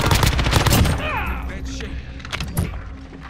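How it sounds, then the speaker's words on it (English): Rapid bursts of gunfire from the Rebirth Island battle royale video game crack loudly up front, dense and layered at first, then thinning into scattered shots beneath continued in-game noise and voices talking. "I'm already getting shot at"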